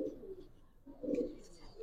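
Silver Giribaz pigeon giving a few soft, low, throaty coos, faint and close, with two short bursts separated by a brief pause.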